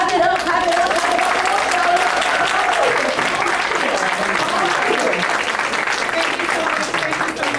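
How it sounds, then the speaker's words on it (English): A large audience at a wellness expo applauds a panelist in a sustained, dense wash of clapping that holds steady at full volume from start to finish. "I want y'all to clap it up for this panelist"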